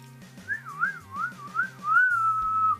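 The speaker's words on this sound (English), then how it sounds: "Can you whistle?" A person whistles a short wavering tune, rising and falling in pitch over a few seconds, close and clear, over a faint repeating rhythmic beat in the background.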